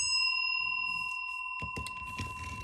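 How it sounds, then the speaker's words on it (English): A small bell is struck once and rings with a clear, sustained tone that fades slowly, followed by soft handling clatter close by. "I'm going to ring this bell"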